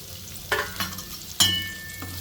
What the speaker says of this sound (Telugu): సో ఇందులో ఇంకొంచెం ఆయిల్ వేసేసి దొండకాయ వేసుకుందాం.